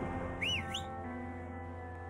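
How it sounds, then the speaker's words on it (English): A character in the video game A Way Out whistles a short, rising and falling two-note tune over a low steady game hum. "Whistling off to something you can't see when the cops pull up."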